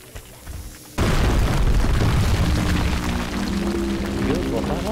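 An explosion in the Overlord video game bursts out suddenly and loudly, then a dense rumbling roar carries on for several seconds, with a voice talking faintly before the blast.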